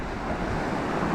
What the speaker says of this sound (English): Tide's going out